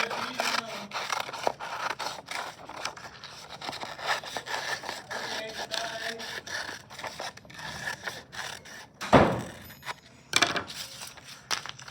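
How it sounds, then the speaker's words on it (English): Scissors cut through a photocopied paper collage, with a run of close, crisp snips and rustling paper handling, and a louder rasping cut near the end. "Now I'm going to cut my collage."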